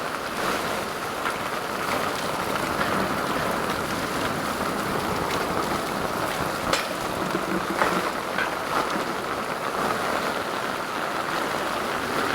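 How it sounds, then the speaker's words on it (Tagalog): Heavy rain pours down steadily in a dense, continuous hiss, loud and close, with occasional faint knocks beneath it. "Lakas ng ulan guys."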